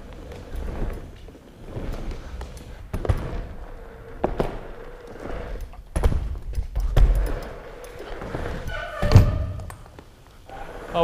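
Skateboard riding a curved wall inside a skate bowl, with repeated hard thuds, clacks and rolling wheel noise in uneven bursts, close and fairly loud, and a voice briefly heard between impacts.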